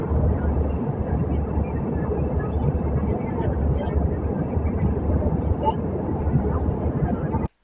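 Steady broadband roar of a passenger plane's engines during takeoff from a flight to San Andres, Colombia, loud and continuous throughout before cutting off abruptly at the end.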